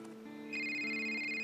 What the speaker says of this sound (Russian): Айфона звонит.